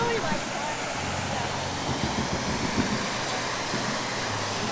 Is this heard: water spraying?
yes